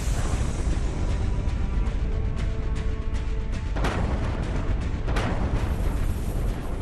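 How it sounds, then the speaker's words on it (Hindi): Heavy explosions from missiles and bombardment striking Ukrainian cities in the Russia–Ukraine war, a dense continuous rumble with sharper blasts around the middle and later on. "बमबारी से तबाह होते शहर।"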